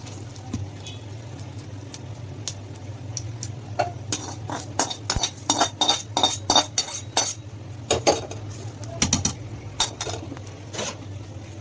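Fried chana dal, mustard seeds and curry leaves being stirred into rava for idli: a spoon scraping and clinking against a metal vessel in irregular bursts, close by over a steady low hum, without talk.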